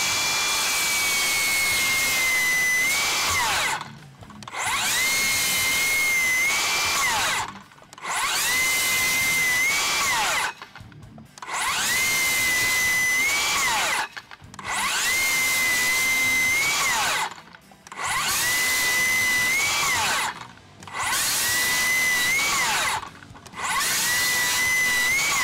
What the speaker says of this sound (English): We're just going to start out with your basic 2x6 piece of pine. We're going to slice right through it